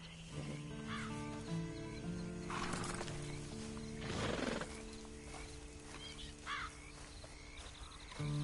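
A horse in Red Dead Redemption 2 whinnies and snorts over a steady ambient hum, with a few hoof clops and distant bird calls scattered throughout.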